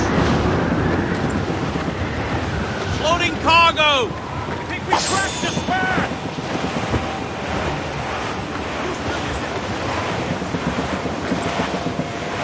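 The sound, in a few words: wind at sea in video game Assassin's Creed Rogue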